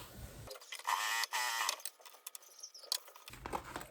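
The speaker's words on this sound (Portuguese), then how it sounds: "E vamos passar aqui uma costurinha de pesponto." Sewing machine running a topstitch seam along fabric for a crossbody bag, a steady mechanical whir in bursts with short pauses and clicks between runs, close and fairly loud with no talking.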